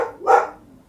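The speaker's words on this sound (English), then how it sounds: "That's my dog telling me he's here." A dog gives a single close, sharp bark indoors at home, short and fairly loud, preceded by a brief softer sound.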